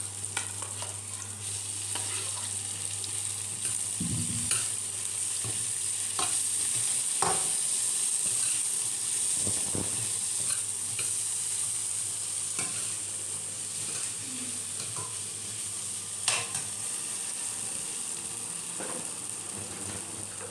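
Boiled potatoes sizzle steadily in a hot pan with five-spice seeds, while a spoon stirs and scrapes now and then against the pan, close and continuous with no talking.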